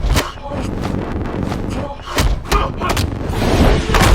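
A heavy thud with a metallic clank as a body hits a hard floor, amid loud, busy action sounds and overlapping voices.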